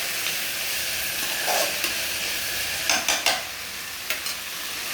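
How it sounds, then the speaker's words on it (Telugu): Ivy gourd fries in oil with onion and tomato, a steady close sizzle with a few brief stirring scrapes over it and no voices. "తర్వాత దొండకాయ వేసానండి, అది ఫ్రై చేస్తున్నాను"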